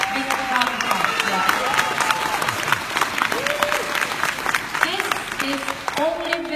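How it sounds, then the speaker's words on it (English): A large seminar audience at a business conference in Kuala Lumpur applauds steadily, dense sustained clapping filling the room while a speaker's voice carries over it. "Big round of applause."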